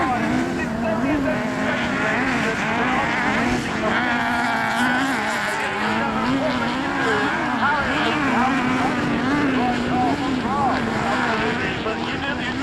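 Autograss race cars at Castle Combe, September 2025, roar steadily at a distance, their engines whining and rising and falling as they race round the track, while someone talks over the noise throughout.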